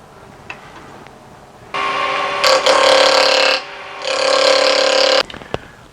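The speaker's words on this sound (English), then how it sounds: "And now I'm going to tighten down the chuck here." A wood lathe chuck is tightened on a piece of holly, giving two loud sustained mechanical buzzing bursts close by, separated by a short pause, with small clicks around them.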